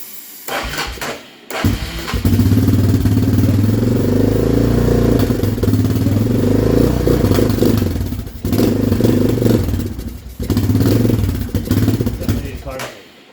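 A Honda ATV engine idles and revs loudly after a dose of carb cleaner, running steadily with a few brief dips and then picking up again. Its mid-pitched rumble fills nearly the whole stretch.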